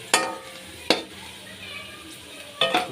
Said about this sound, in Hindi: ये देखें प्याज हमारा आहिस्ता आहिस्ता ब्राउन हो रहा है।